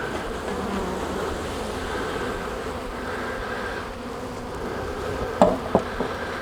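A honeybee colony buzzing steadily during a hive inspection, dense close hum filling the whole stretch, with a couple of brief sharp knocks near the end.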